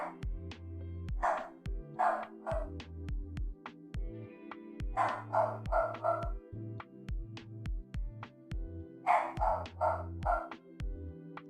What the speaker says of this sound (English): Tell that dog to shut up.